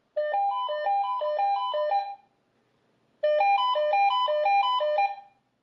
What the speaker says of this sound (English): Which plays a loud tune from the speaker to help you find it.